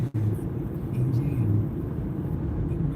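Road traffic rolls past a moving car in a steady low rumble with a faint engine drone and a brief thump near the start.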